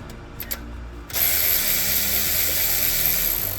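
A ratchet wrench works a top bolt loose on a BMW S63 engine; after a few faint clicks, a steady, close-up ratcheting whir runs continuously through the rest, with no talking.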